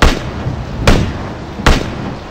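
Two sharp gunshots in the battle royale game PUBG, about 0.8 s apart, loud and close, each with a short booming tail over steady background game ambience.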